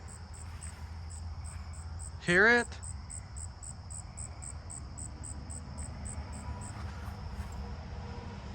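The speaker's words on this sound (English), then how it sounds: "a southern ground cricket's over here." A southern ground cricket chirps in a backyard with a fast, faint, steady run of tiny pulses repeating evenly throughout, while a person briefly speaks close by.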